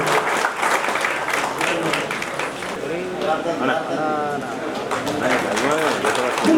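A crowd claps steadily throughout, dense applause with voices talking loudly over it.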